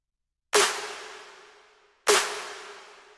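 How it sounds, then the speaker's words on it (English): Two sharp snare drum hits about a second and a half apart, each with a bright crack and a long decaying ring. "For the drums I took some samples like snares that sounds like this."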